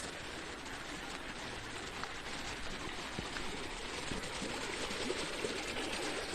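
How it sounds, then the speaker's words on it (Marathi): Steady, dense rain hisses evenly on surfaces throughout, a constant wash of falling water with no talking. "बघू शकता कसलो पाऊस लागलो आज"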